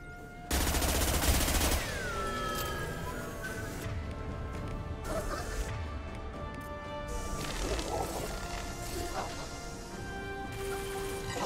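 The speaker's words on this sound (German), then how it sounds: "Auf die Injektionsschläuche schießen." Gunfire in Mass Effect 2 as shots are fired at injection tubes, a dense burst of rapid shooting and crashing impacts at the start, then sustained loud combat noise with electronic tones running under it.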